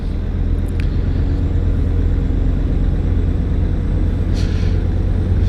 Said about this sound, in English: it's quite close to real world Scania engine sound